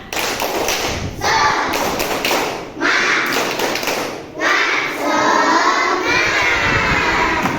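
A third-grade class in an Indonesian primary school claps a rhythmic 'tepuk semangat' chant, loud bursts of children's hand claps in patterned groups with shouted voices mixed in, filling the room.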